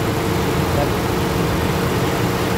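A 2009 Toyota Innova engine idles steadily and smoothly, a constant low rumble with broadband hiss running evenly throughout without any rhythmic shaking or change in level.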